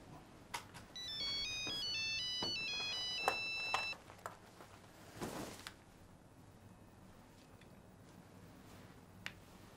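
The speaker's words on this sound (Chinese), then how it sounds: "电话响了吧？" An electronic telephone ringtone plays a repeating melodic pattern for about three seconds, close and clear, indoors with no talk; a few soft clicks and a thump follow in the quiet room.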